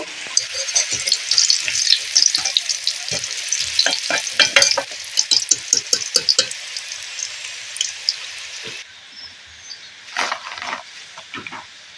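Potato pieces deep-frying in oil in a kadai, stirred with a utensil: a dense, steady sizzle with sharp scraping and clinking strokes, easing to a softer sizzle near the end with a few more clatters.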